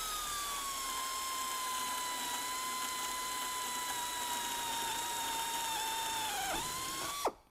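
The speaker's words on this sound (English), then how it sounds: "Really just letting the drill bit do the work." A high, whining drill bores through aircraft wing skin, running steadily for several seconds, its pitch dipping slightly under load before it abruptly stops.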